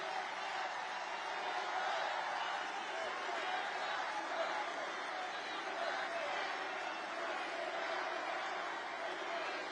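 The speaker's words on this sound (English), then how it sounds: "It's a big crowd of people." A large crowd at a Donald Trump political rally marking his birthday keeps up a steady, dense roar of many voices for the whole stretch, with no single voice standing out.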